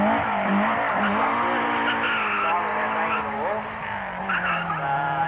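A Mitsubishi Lancer rally car climbs the King Edward Park hill climb, its engine loud and close with rising revs and gear changes, tyres squealing, while an announcer talks over it.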